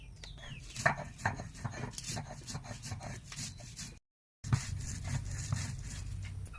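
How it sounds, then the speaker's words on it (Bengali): Fried chili and black cumin being ground on a stone slab by hand, a close, rhythmic scraping and rubbing with repeated strokes and soft knocks, briefly cutting out partway before resuming. "লঙ্কা কালি জিরে এখন বেটে নেব"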